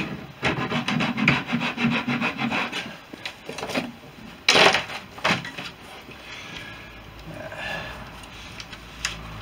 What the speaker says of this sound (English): Just nipping off the corners, and I'll use a standard file.